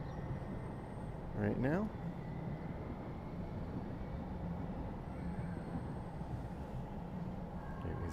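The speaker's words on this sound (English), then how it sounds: "You can see a green line train going by" A Green Line light rail train passes on a street in downtown Minneapolis, a steady low rumble with a brief rising whine partway through, heard at moderate distance under a person talking.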